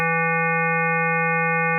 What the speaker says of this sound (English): But if you emphasize only the odd overtones, it sounds like this.